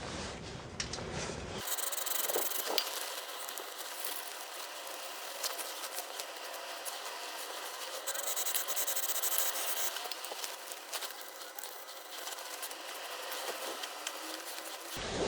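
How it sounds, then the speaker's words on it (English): A wire brush with brake cleaner scrubs around the passenger drive shaft seal area of a Ford Mondeo Mk3 ST220, making a continuous harsh, close-up scratching rasp that varies slightly in intensity for over ten seconds. "So I'm going to use some brake cleaner and a wire brush just to clean up around here."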